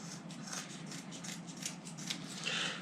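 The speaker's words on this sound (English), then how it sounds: "I'm gonna cut this straggling end right here just so we can have a clean end to start with" Scissors snipping through exhaust heat wrap for an ATV or motorcycle exhaust, a series of quick, close, soft cutting snips in a steady rhythm, with no speech.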